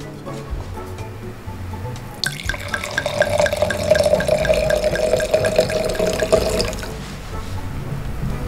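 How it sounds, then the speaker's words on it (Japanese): Wine pours into a wine glass in one near, bubbling stream that rises in pitch over about four seconds and then stops, over faint room noise. "では注いでみます。"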